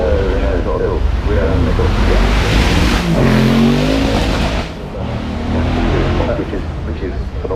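Shelby American Mustang tuned to 850 horsepower launching from the start line at the Goodwood Festival of Speed, its engine roaring loudly and steadily with a rising pitch, under continuous commentary and crowd noise.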